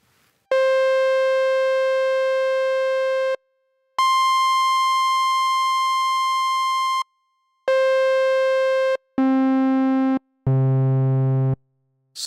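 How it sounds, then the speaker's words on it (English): An analog modular synth oscillator playing a series of steady sustained tones at different pitches, each held for a second or more with short silences between, loud and clean. "First of all, the sine wave."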